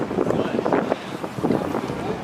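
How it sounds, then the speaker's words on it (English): Strong wind buffets the microphone outdoors at a car show, producing a loud, continuous rough rumble with gusty surges throughout. "It's just too windy out here."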